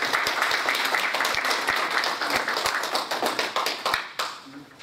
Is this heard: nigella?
no